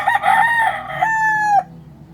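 A young fighting rooster bred in Cebu crows loudly and close by, one long harmonic cock-a-doodle-doo call that rises, holds and cuts off sharply, alone with no talking.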